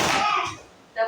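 A classroom group claps hands together in a focus-clap routine, one sharp burst of clapping at the start and another near the end, with a quieter gap between.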